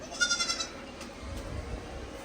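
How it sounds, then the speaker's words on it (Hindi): A young goat kid gives a short, faint bleat nearby in a snowy outdoor spot, over low rumbling background noise. "बकरी का बच्चा इधर भाग गया।"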